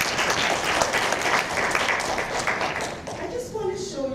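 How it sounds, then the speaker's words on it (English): An audience at a keynote talk gives a round of applause, dense steady clapping filling the room for several seconds before fading, with a voice speaking at the end as it dies away. "I think that deserves a round of applause."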